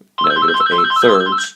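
Telephone ringtone sounding in a room during a maths lesson, a steady electronic ring with a repeating tonal pattern that plays loud and close, running over a speaking voice.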